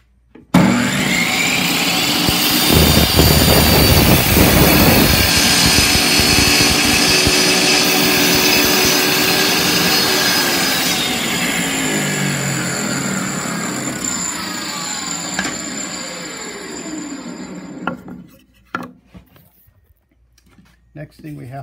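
A table saw rips through wood for a rotted Andersen window sill repair, a loud steady whine sustained for about fifteen seconds before spinning down and fading, with faint talk after.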